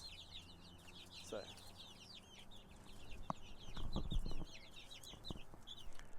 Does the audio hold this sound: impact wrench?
no